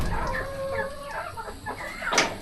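Hens clucking in a backyard coop, several birds calling close by in overlapping, uneven bursts with one sharper squawk near the end, with no voices.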